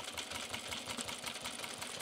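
A sewing machine with a buttonhole attachment stitches on Ames jeans, running in a fast, even mechanical chatter of needle strokes close by, with no speech.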